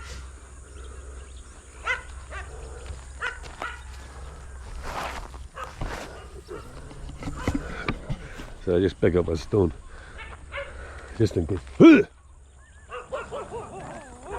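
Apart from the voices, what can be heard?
farm dogs barking and growling at intruder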